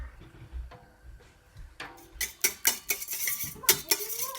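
Metal spoon scraping and knocking against a pot of 4 gallons of goat milk as it is stirred, a series of close, sharp clinks and scrapes growing busier after a quiet start.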